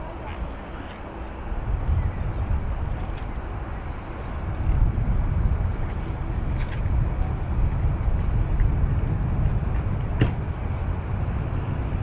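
A Ryanair airliner arriving at Dublin from Bergamo, a steady low engine rumble that swells after the first few seconds and holds, with a voice speaking over it.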